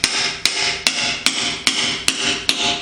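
Hammer blows drive a pusher tool against a needle bearing's flat face, seating it into a 1953-1962 Corvette steering gearbox: seven sharp, evenly spaced metallic strikes, loud and close, each ringing briefly before the next.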